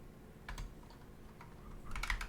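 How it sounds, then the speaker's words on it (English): Fast typing on a computer keyboard, soft clustered key clicks in short bursts, fairly quiet and close, with no talking over it. "Sorry if you hear my keyboard."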